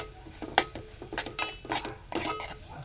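Chopped onion sautéing and being stirred in a pan for a spicy Marathi ridge gourd dish, with repeated scraping and clinking strokes of a spoon over a steady close sizzle.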